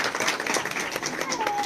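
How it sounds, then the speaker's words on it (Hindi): Crowd of supporters clapping in welcome for a BJP candidate at a Rajasthan election gathering, dense applause over short bursts of amplified speech. "ताली बजाकर स्वागत करेंगे।"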